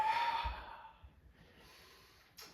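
A soft, breathy exhale during a gentle yoga session, a long airy sigh that fades out slowly in a quiet room.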